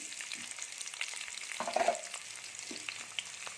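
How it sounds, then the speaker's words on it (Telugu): Onions and green chillies frying in a pan for bagara rice, a faint, steady sizzle with a few soft stirring touches, no voices. "ఉల్లిపాయలు బాగా ఫ్రై అవనివ్వండి"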